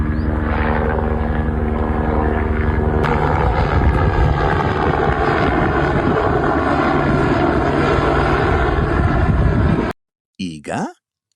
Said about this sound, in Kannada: ಇಲ್ಲಿ ಬರ್ತಾ ಇದೆ ಹೆಲಿಕಾಪ್ಟರ್, ತೋರಿಸ್ತೀನಿ ನಿಮ್ಗೆ.